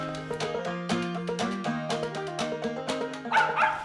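A hunting dog barks repeatedly at a squirrel up a tree, a rapid run of sharp, fairly close barks and yips with no talk over them.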